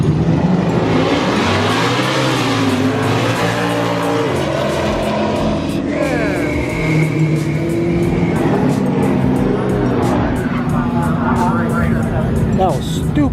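A drift car at Irwindale Speedway during drifting practice roars very loudly with a revving engine and long screeching tire squeal as it passes close by, with voices barely audible underneath.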